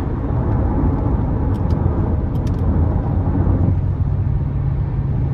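A 2018 Nissan Murano S with the 3.5-liter engine and AWD, 71,000 miles on it, pulls hard under throttle, a loud, steady engine and road roar filling the cabin that eases slightly near the end.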